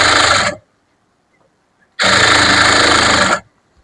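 A sewing machine stitches churidar pants in two loud, close bursts of rapid mechanical whirring, separated by a pause of near silence.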